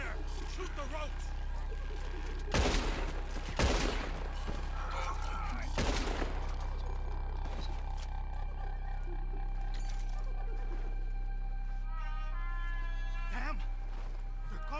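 Gunfire in the video game Red Dead Redemption 2, with several sharp, loud shots spaced a second or so apart over a low rumbling ambience, while characters shout and talk throughout.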